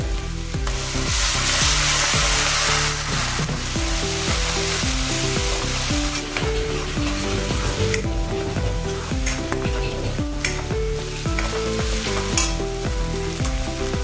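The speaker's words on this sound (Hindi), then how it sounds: "अभी हम टमाटर की प्यूरी डालेंगे" Tomato puree hitting hot frying masala for a fried water chestnut dish gives a loud, continuous sizzle and stirring hiss throughout, with tonal background music running underneath.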